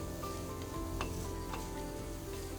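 Onions sautéing with a pinch of salt in a pan for chutney, a steady close sizzle with a few light stirring scrapes, no voices.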